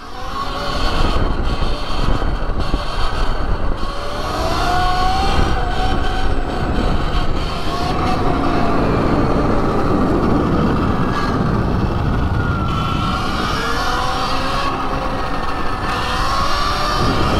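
A footpeg scrapes the track on a 72v Surron electric motorbike fitted with mini supermoto wheels, a harsh grinding screech that rises and fades over the loud rush of riding and wind, close to the rider.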